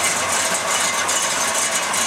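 A small engine runs steadily after a carburetor repair. The motor is cold, and it drones at a continuous, even idle close by.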